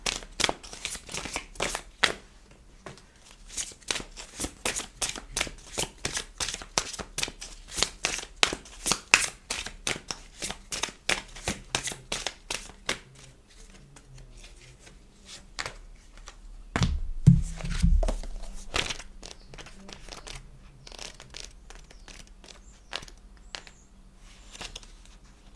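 Oracle cards shuffled by hand, a close run of quick riffling taps and rustles coming in dense bursts, then thinning out into scattered soft handling sounds.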